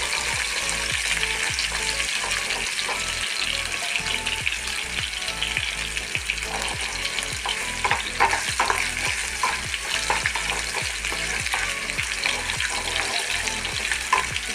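Curry leaves fry in a pan with a loud, continuous sizzle and crackle, broken by rhythmic stirring scrapes throughout.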